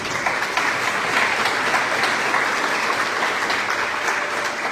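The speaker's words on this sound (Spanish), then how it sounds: "Fuerte los aplausos." An audience at a May 2024 graduation ceremony for administration and software development graduates gives a steady, fairly loud round of applause with no talking over it.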